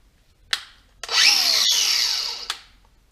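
Dewalt DCG412N cordless angle grinder spinning up to a steady high-pitched whine for about a second and a half and then winding down, close and loud, with short clicks before and after.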